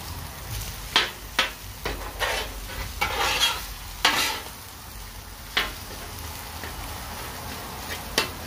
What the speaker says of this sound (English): Time to mix it all together.